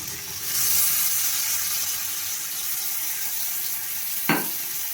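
Capsicum and onion sizzle steadily with salt in a hot pan, a continuous close frying hiss with one brief clatter near the end and no talking.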